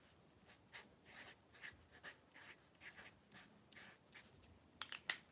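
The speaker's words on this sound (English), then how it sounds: "You write yourself on a bit of paper and you push it under the door." Pen or pencil writing on a small piece of paper, quiet scratchy strokes coming in a steady rhythm of short bursts, close and alone with no talking.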